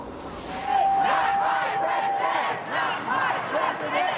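A crowd of protesters chants against Donald Trump after the 2016 election, a loud, sustained mass of voices that rises in waves and carries a few raised shouts.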